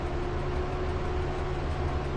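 A mail train departing in the Train Driver 2 simulator game, a steady low rumble and engine drone with a faint repeating rhythm, continuous and fairly quiet with no talking.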